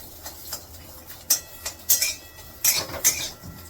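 Dry coconut roasting in a pan without oil, a spatula scraping and clinking against the metal in quick, irregular strokes, close and fairly crisp.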